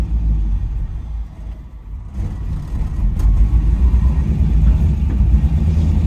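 A BMW E30 M3 engine running poorly, with a close, loud, uneven low rumble that dips, then swells and settles into a rough, steady drone.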